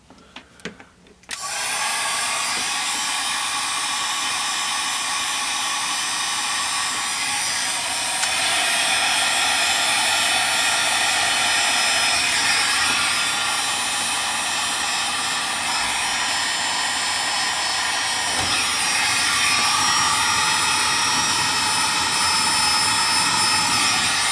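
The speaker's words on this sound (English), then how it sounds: "We're going to use this heat gun and contract the heat shrink stuff." A heat gun blowing steadily on heat shrink tubing during a wiring repair, producing a loud, continuous roaring whoosh that starts abruptly after a brief click and runs unbroken, close and dominant.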